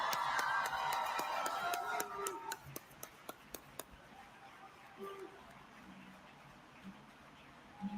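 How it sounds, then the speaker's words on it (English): A brief swell of crowd cheering and clapping fades into a handful of evenly spaced single claps, then quiet. "can we give Jason Kelsey a round of applause"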